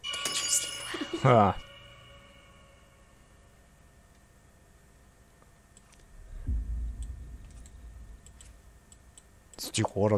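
Glass shatters in the horror game Layers of Fear 2, a bright cluster of breaking and tinkling shards near the start, followed by quiet ambience, a low rumble, and another sharp burst at the end.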